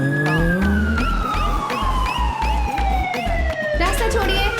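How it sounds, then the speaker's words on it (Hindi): An ambulance siren wails loudly and close by, its pitch sweeping up and down in long, repeating cycles over a rumbling vehicle engine, with no voices. "देखो एम्बुलेंस आई कि नहीं"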